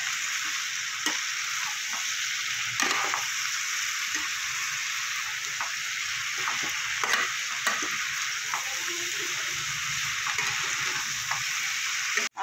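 Potatoes with salt and turmeric frying in a small wok for aloo posto, stirred slowly; a steady close sizzle runs throughout, broken by scattered scraping clicks of the spoon, with no talking.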